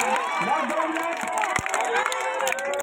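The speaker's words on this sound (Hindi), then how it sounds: "एक बार जोरदार ताली होनी चाहिए" A crowd at a local village dangal wrestling bout roars and cheers in a dense, continuous wash of shouts and hubbub, with excited voices throughout and little distinct clapping.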